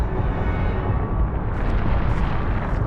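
A sustained, rumbling Confringo spell explosion in Hogwarts Legacy, loud and continuous for a few seconds with small crackling bursts near the end.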